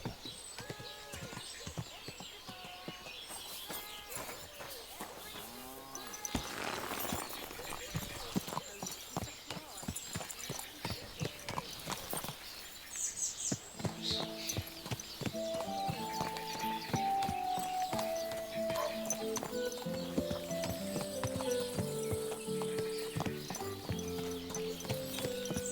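Horse hooves clip-clop steadily in the Kingdom Come: Deliverance II video game, a rhythmic walking beat that runs throughout, joined by a whinny, game music rising in the second half, and a man calling out over it.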